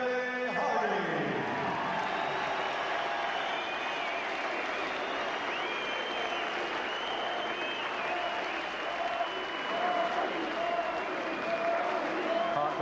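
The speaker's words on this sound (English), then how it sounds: "a round of applause, please, for this young man who came here to challenge tonight" A boxing crowd gives sustained applause for the defeated challenger after the fight, a dense, steady wash of clapping and cheering from a large audience that lasts throughout, with an announcer's voice faintly underneath.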